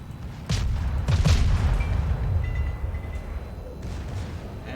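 Warship guns firing shells in the World of Warships naval game, a deep booming salvo followed by rolling rumble and lingering low battle noise, with a faint alert tone.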